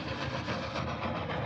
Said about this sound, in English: As the engine pulls the train, it burns through coal, it boils through water, and soon it must stop for more.